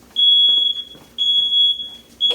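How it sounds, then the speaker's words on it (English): A piercing smoke alarm sounds three loud, shrill beeps in a regular pattern, each held for about half a second. "I'm going to turn the smoke alarm off and I'll be right back."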